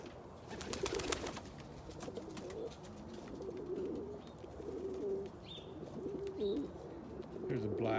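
Pigeons in a loft coo in low, soft bursts through the clip, with brief bird calls and chirps above a steady background murmur and faint voices.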